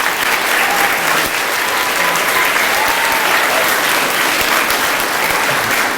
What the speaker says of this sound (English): we need to give a round of applause to everybody